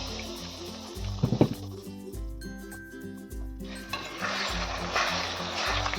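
Water is poured into a pan of spiced pumpkin kofta curry, a splashing, gurgling pour that builds into a louder bubbling rush near the end, with no voices.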